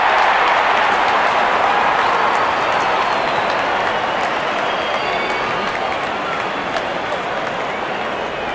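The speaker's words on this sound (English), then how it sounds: "Out come the openers, cheered by a good crowd in." A crowd at a Pakistan vs England T20 cricket match cheers and claps as the openers walk out. The roar is loud, dense and sustained and fades slightly over several seconds.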